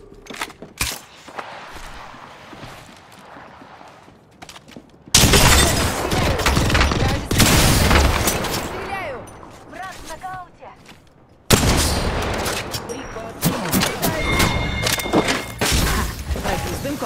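Apex Legends gunfire erupts in dense, loud bursts of rapid shots with impacts and clatter, separated by quieter stretches of small noises.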